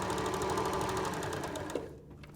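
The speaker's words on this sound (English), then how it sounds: "And then sew all the way around again." A sewing machine stitches fabric around the edge of a peg bag in a fast, even mechanical chatter, close and loud, then slows and stops near the end.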